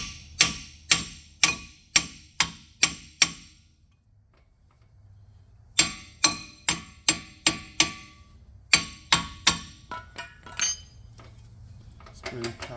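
Repeated metallic hammer strikes on a seized brake rotor of a Mitsubishi Mirage, coming in three rapid bursts of ringing clanks separated by short pauses, close and loud.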